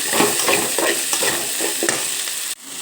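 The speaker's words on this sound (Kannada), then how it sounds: "ಹೆಚ್ಚಿಟ್ಕೊಂಡಿರ್ತಕ್ಕಂಥ ಈರುಳ್ಳಿ ಹಾಕ್ಕೊಳ್ತೀನಿ ನೋಡಿ ಫ್ರೆಂಡ್ಸ್. ಇದನ್ನು ಸಹ ಬಾಡಿಸ್ಕೋಬೇಕು" Chopped onions sautéing in oil in a pan, a dense close sizzle punctuated by a rhythmic series of spatula scrapes and taps, ending with a sudden drop in level.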